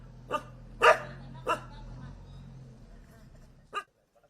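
Stray dogs in Manapparai, Tamil Nadu, bark several times in short sharp bursts at moderate distance over a low background hum, with a final bark after a pause.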